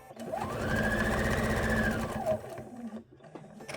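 A sewing machine runs a longer quilting stitch through a placemat, one steady whirring run of about two seconds that winds down and stops, heard close and alone.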